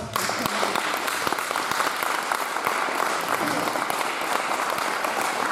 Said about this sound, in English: They deserve a big round of applause for the work.